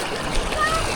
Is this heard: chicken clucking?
no